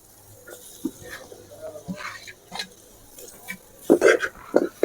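Mashed yam is stirred and sautéed with carrot and beans in a pan, giving soft sizzling and scattered scraping knocks of a spoon that grow louder and more frequent toward the end, with no talking.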